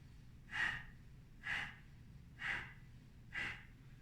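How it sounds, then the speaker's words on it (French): Kapalabhati breath of fire in yoga: four forceful, sharp nasal exhalations spaced about a second apart, close and clear over a quiet low background hum. "c'est une respiration où on force les expires en engageant les abdominaux et où les inspires se font naturellement"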